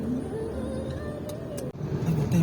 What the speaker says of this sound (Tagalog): Sobrang traffic din pala dito sa Davao.